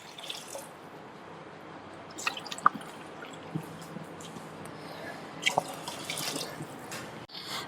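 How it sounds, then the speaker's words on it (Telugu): Water poured into a pan for semiya kheema, two glasses' worth, with soft splashing and trickling, a few sharper drips and splashes standing out over a low steady background. "ఈ 1/2 కిలో సేమియాకి సరిపడినంత వాటరు పోసుకోవాలి. 2 గ్లాసులు పోస్తున్నానండి."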